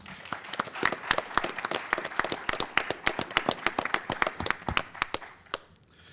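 A school audience applauds at a Texas middle school quiz show final, many sharp claps in a fast, dense patter that stays fairly close and thins out near the end.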